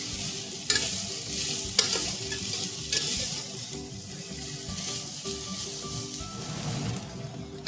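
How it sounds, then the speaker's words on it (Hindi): Boiled gular, or cluster figs, frying in mustard oil with a continuous close sizzle, broken by a few sharp clinks and scrapes of a spoon stirring the pan, without any talking. "उबले हुए गूलर डालकर कुछ मिनट तक भून लेंगे।"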